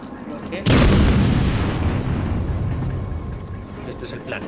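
A grenade blast in the video game Batman Arkham City, one sudden loud boom that rolls off into a long rumbling decay.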